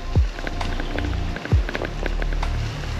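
Rain falls at the seaside in a steady, close patter on surfaces, broken by a couple of dull low thumps, with no voices.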